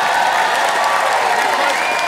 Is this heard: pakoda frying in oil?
no